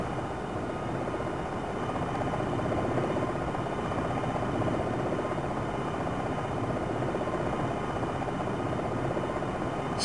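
Military helicopter hovering in the video game Jane's Longbow 2, a continuous steady rotor and engine drone filling the whole stretch at even loudness, with no speech.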